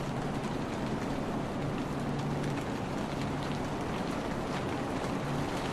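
Rain falls at night in the middle of a forest, a steady, dense hiss of drops on leaves and ground that continues without a break, with no voices.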